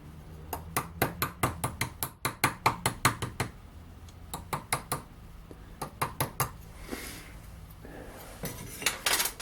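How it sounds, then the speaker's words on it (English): A plastic hammer taps copper tulip petals in a metalworking shop, giving bursts of quick, sharp, ringing knocks with short pauses between runs. "using a plastic hammer just to take that out"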